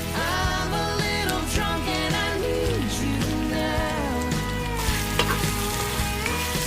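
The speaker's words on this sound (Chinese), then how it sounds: "快速倒入炸好的土豆和炸虾，翻炒均匀后，撒入1克盐。" Fried potatoes and fried shrimp tossed in a wok for spicy dry-pot shrimp, a dense continuous sizzle with rhythmic scraping and clanking of the spatula, loud and close throughout while music plays underneath.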